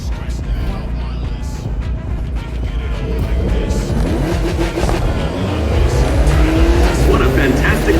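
Classic cars race on a closed course in a video game, engines droning and revving close by with occasional tire squeal, the roar building toward the end beneath some game voice or music.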